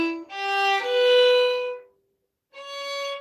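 A violin plays a measure of Un Bel Dì Vedremo from Madama Butterfly, a few sustained bowed notes rising in pitch, then a short silence before a final held note, close and clear with no voices.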